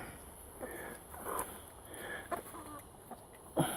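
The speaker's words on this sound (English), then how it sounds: "Here come the chickens." Backyard chickens, a small flock of about fourteen coming toward a person, give soft scattered clucks and short calls at close range over a faint background hiss, with a slightly louder call near the end.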